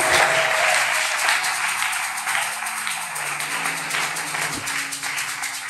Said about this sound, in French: applaudis ce que Jésus a fait